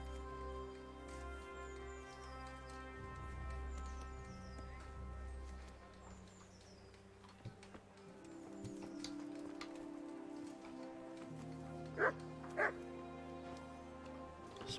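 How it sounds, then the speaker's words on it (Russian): Two short, sharp dog barks sound in a video game near the end, standing out over quiet background music and ambience. "Спокойно, собачка."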